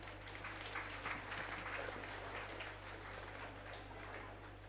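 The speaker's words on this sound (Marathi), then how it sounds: "आपल्या सगळ्यांना विनंती आहे की आपण जोरदार टाळ्या वाजवाव्या" An audience at an anniversary ceremony gives sustained applause, a dense even wash of many hands clapping throughout, somewhat distant, over a low steady hum.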